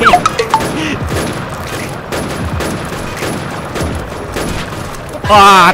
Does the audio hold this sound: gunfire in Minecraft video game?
yes